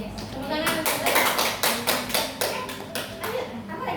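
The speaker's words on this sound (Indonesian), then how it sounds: "Tepuk tangan untuk saya." Clapping from a group of students in an Indonesian classroom, a run of quick dense hand claps in a few bursts, fairly close, with chatter among the students.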